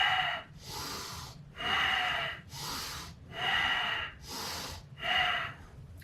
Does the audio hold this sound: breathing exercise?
yes